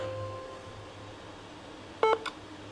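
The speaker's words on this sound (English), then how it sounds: "Beep." A short electronic beep tone, sounding twice in quick succession, clear against a quiet background hum.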